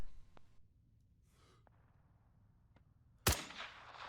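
A single RHS M2010 Enhanced sniper rifle shot in ARMA 3, fired near the end as a sudden loud crack with a brief decaying tail, preceded by quiet clicks and a soft breathy rustle.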